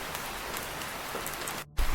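Steady rain falls in a continuous even hiss at night, close and moderately loud, then cuts out briefly near the end before a soft low thud.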